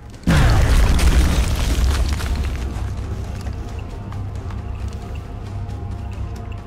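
A grenade explodes in the turn-based strategy game XCOM, opening with a sudden heavy boom followed by a long, loud rumbling decay with scattered crackling debris that gradually fades.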